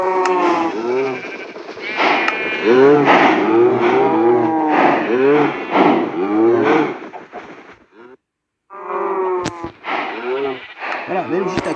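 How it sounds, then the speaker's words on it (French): Cows mooing in the video game Minecraft, with repeated lowing calls overlapping at close range, loud and steady, then a brief silent gap before more calls resume. "on a des vaches"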